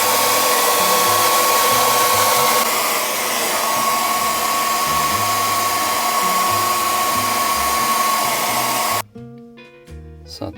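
A hair dryer drawing about 1100 watts from a FOSSiBOT F1200 portable power station roars with a steady loud whirring hiss and a constant whine for about nine seconds, then cuts off abruptly, leaving quiet background sounds.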